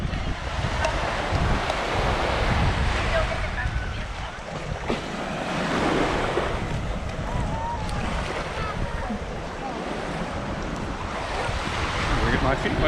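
Sea waves wash onto the sandy beach at Cala Torta, Mallorca, a steady surf roar with wind buffeting the microphone throughout, loud and continuous without pauses.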